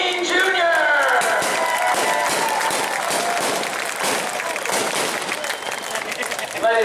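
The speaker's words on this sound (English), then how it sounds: "how about another round of applause for all these drivers" A crowd at a stock car race track applauds the drivers with sustained, dense clapping and some cheering, loud and continuous throughout.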